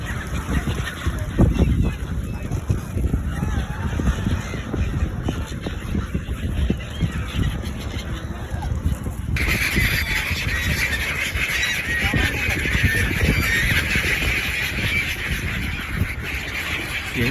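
Waterfowl at the seaside resort of Bang Pu honk repeatedly with a duck-like quality, dense overlapping calls from a flock that carry on steadily throughout amid busy outdoor background noise.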